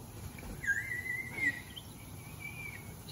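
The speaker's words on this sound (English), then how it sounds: "Did you hear the bird sound? It sounds like a bird." A small electronic device gives out a synthetic bird-like chirp, a thin, high whistling tone that rises and holds for about a second, then returns more faintly, over a low background hum.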